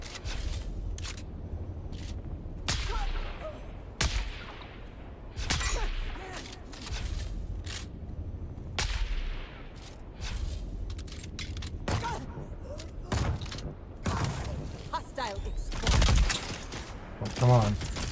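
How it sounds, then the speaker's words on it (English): Automatic weapon fire in Dune Awakening's Deep Desert rattles in short and longer bursts, mid-distance, over game ambience and footsteps, while someone talks intermittently. "I heard automatic weapon fire for some reason"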